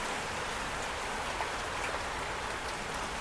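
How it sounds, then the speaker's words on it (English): Steady heavy rain from an Oklahoma summer thunderstorm, a dense, even hiss of drops hitting surfaces nearby, constant and fairly loud throughout with no talk. "Oh, that rain is beautiful."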